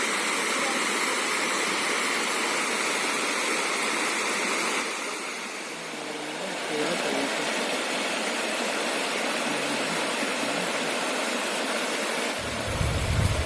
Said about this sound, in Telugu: ఇది చూడండి ఫ్రెండ్స్, ఎంత మంచిగా వస్తున్నాయి వాటరు